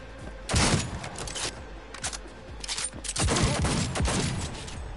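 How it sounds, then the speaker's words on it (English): Gunfire in Cyberpunk 2077 on PS4 rings out in several sharp bursts of shots, some clustered into rapid volleys, with near and more distant reports over a quiet background. "Where is he shooting from?"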